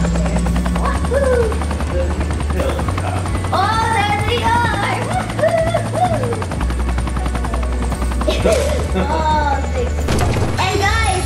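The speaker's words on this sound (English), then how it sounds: "we got a helicopter" A helicopter in the video game Fortnite keeps up a steady low rotor thrum, with excited voices and game effects over it and bursts like gunfire near the end.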